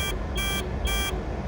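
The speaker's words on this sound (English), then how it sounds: "see how it flashes red and it has an audible alarm? So I've got a red arc low coolant alarm" The audible low coolant engine shut-off alarm in a Nissan GU Patrol with a TD42 engine beeps in regular on-off pulses, three steady tones in quick succession over a low idling hum, close and clear.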